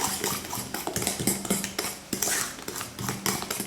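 A utensil scrapes and knocks against a bowl in quick repeated strokes, stirring cheesecake batter, steady stirring sounds up close with no voices.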